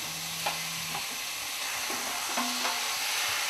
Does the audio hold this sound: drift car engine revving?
no